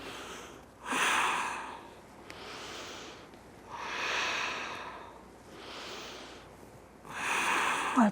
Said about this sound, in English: Focus on your breath. Keep breathing.